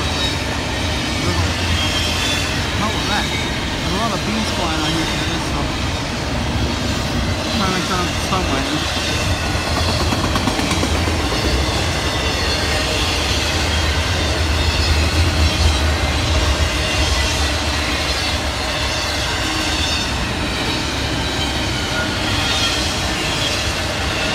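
A fast intermodal freight train rushes past close by, a steady loud roar of wheels and rail noise with rattling cars and intermittent squeal running throughout, with no pauses.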